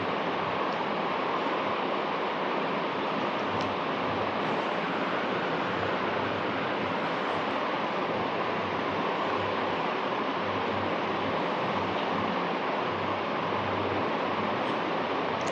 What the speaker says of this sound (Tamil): மிக்சியில் போட்டு அரைச்சி எடுத்துக்கலாம்